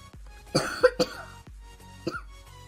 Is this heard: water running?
no